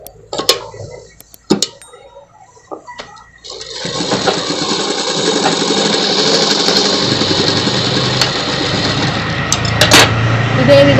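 Sewing machine stitching a collared night suit: a few clicks and handling knocks, then a continuous close, rapid whirring rattle that runs steadily to the end.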